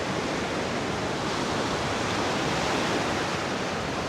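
Ocean surf on My An Beach in Da Nang, Vietnam, a steady broadband wash of breaking waves that stays loud and even throughout, with no voices over it.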